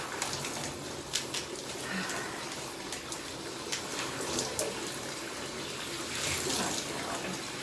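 Steady spray of running water while washing a dog, close and continuous, with slight splashing shifts as the flow moves around.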